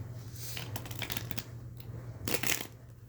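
Tarot cards are shuffled by hand in two short, crisp riffling bursts over a low steady hum in a quiet room.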